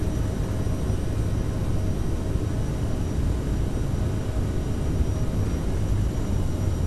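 Aerosoft CRJ jet engines at takeoff thrust in a flight simulator, a steady loud broadband roar holding constant without pause, with no voices over it.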